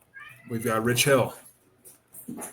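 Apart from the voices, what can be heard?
pet cats meowing in the background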